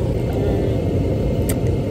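Steady low rumble inside a moving car, constant road and engine drone filling the cabin with no talking.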